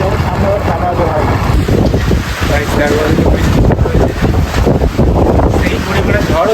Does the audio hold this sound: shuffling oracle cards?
no